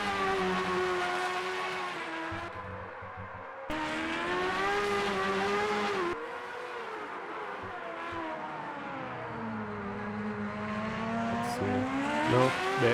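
Race cars in the sim racing game Automobilista 2 at Interlagos, a steady engine drone with shifting harmonic pitch that rises and falls across the clip, continuous and fairly loud, with no talk.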